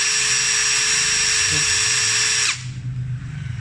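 A Nagawa NID213K impact driver spins freely at high speed with a steady, loud whine, then is released and winds down abruptly, leaving quieter background noise.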